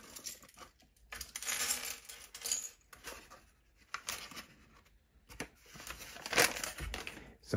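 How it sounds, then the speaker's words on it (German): A small paper bag from a LEGO Jurassic World magazine is opened and closed, giving bursts of crinkling and rustling paper with short pauses between handling sounds, close and fairly clear, no talking. "Das Mini-Tütchen ist Papier. Auf und zu machen."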